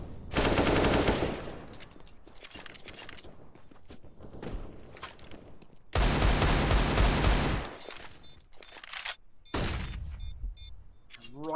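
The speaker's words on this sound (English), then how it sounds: "A couple of shots with an AK-47." AK-47 fire rattles in Counter-Strike in long, loud automatic bursts separated by quieter stretches of shuffling and mechanical noise, with another burst near the end.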